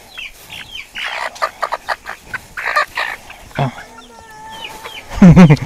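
A chicken clucks in short bursts amid rustling and handling noises, with a louder flurry of squawks near the end; people talk briefly in the background.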